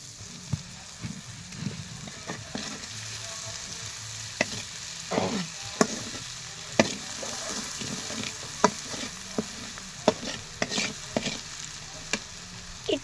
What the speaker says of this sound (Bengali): আপনারা দেখতে পাচ্ছেন আমরা নেড়ে নিচ্ছি